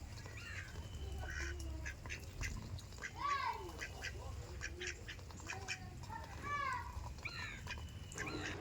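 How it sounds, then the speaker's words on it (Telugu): Ducks quack repeatedly while feeding on rice beside a river, a scatter of nasal calls from several birds at moderate distance over a low steady background rumble. "అన్ని బాతులు అయితే తినేసాయి."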